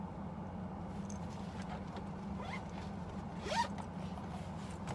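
A zipper on a soft leather handbag with silver-tone hardware is pulled in a few short, raspy strokes over a steady low hum.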